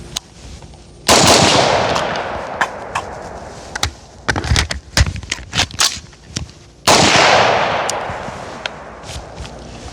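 Two loud, sharp gunshots from a budget rifle in a home defense test ring out several seconds apart, each trailing off in a long echoing decay, with scattered mechanical clicks and rattles of handling between them.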